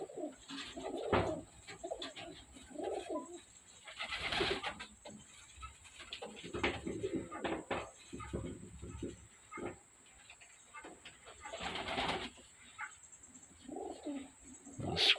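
Pigeons coo repeatedly inside a coop, soft throaty calls rising and falling close by, with occasional rustling and brief louder bursts of movement among the birds.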